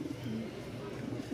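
Pigeons coo at a pigeon market in Mirpur-1, Dhaka, where Rajshahi pigeons are sold, making low, throaty calls that overlap and repeat steadily throughout, close by and with no talking.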